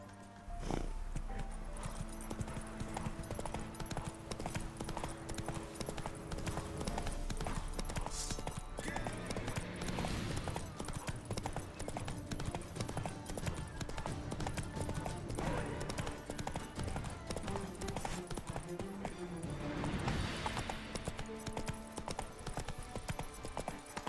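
A horse's hooves clip-clop steadily and continuously as it walks and trots in The Witcher 3: Wild Hunt, loud and close over a constant background bed, with an occasional snort or whinny.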